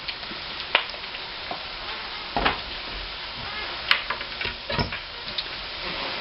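Mushrooms and onions frying in canola oil, a quiet continuous sizzle broken by scattered stirring clicks and utensil taps, close by with no talking.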